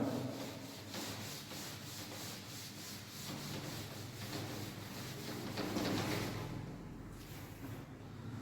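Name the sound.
rubbing out a drawn diagram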